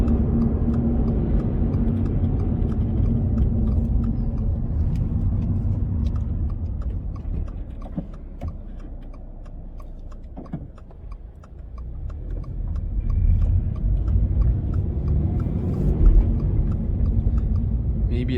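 Toyota GR86 with 231 hp engine droning at low revs while the car turns around, a steady close rumble that dips midway then swells again as it pulls away.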